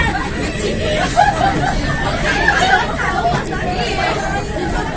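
A group of women chatter together in a busy train station, overlapping voices and bursts of laughter forming a steady close babble throughout.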